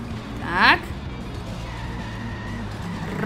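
A car in The Simpsons Hit & Run skids through a sharp turn, giving one brief, loud tire squeal over a steady engine drone, with someone talking over the game sound.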